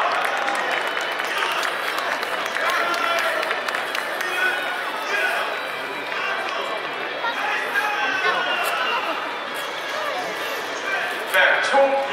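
An audience applauding steadily at a youth baseball club's founding ceremony, a broad wash of clapping with crowd chatter mixed in, continuous throughout.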